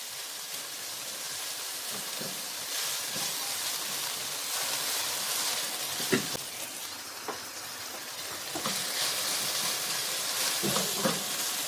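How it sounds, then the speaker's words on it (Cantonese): Scallion, ginger and bird's eye chili fry in oil over low heat, giving a steady close sizzle and hiss with occasional light clicks of a utensil stirring, and no talk. "我哋先將葱、薑同埋小米辣先煎香佢，細火等佢煎出啲味先"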